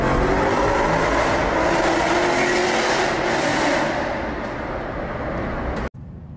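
Manual transmission car accelerating hard with the pedal floored, a loud broad engine and road roar that holds steady, eases slightly, then cuts off abruptly near the end.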